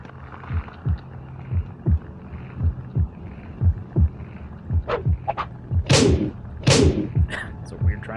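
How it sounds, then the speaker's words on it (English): Rhythmic heartbeat thumps pulse steadily from a Xenomorph statue in the Alien Versus Predator video game, the low throbbing beats repeating at a regular pace while sharper game noises break in near the end. "Heartbeat sounds like it's coming from inside the Xenomorph statue."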